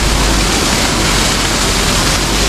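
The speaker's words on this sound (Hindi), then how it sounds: "यहाँ देखिए कितना बड़ा वाटरफॉल, अरे वाह क्या फॉल है यार" A large waterfall near Himalayan hot springs roars close and loud, a dense, unbroken rush of falling water with no voices.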